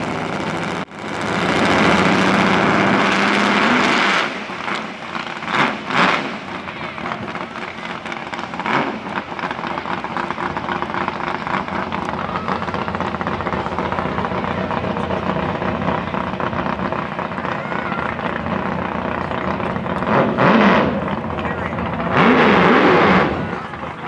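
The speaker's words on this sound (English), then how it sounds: "I'm going to say that's probably the loudest car on record here today." A loud, high-powered car engine roars throughout a wheelstanding run at a power wheelstanding championship, holding a heavy sustained drone with several sharper revving surges near the start and end.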